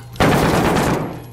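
A short, sudden burst of rapid automatic gunfire in Call of Duty: Modern Warfare, loud and close, kicking in abruptly and then fading within about a second.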